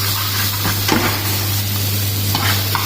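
Ginger garlic paste with cumin seeds sautés in a pan for a breakfast of black chickpeas, giving a steady close sizzle with a few stirring scrapes and a constant low hum underneath.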